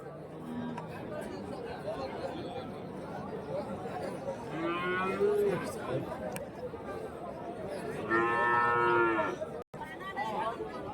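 Cattle lowing at a livestock market where Jersey heifer calves are being sold, with several drawn-out moos rising over a steady background of crowd chatter and people talking nearby.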